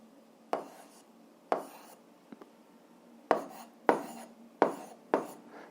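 Writing during a seventh-grade algebra lesson, six or seven separate sharp strokes with uneven pauses between them, close and fairly quiet, no talking.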